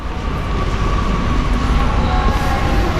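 Jabodebek LRT train at Halim station, a loud, steady rumbling roar of the train with a faint high whine running through it, close and continuous without speech.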